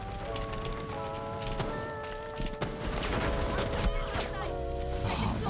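Rapid bursts of gunfire in the Rainbow Six Siege video game, repeated sharp shots in quick succession over steady game background noise and tonal effects.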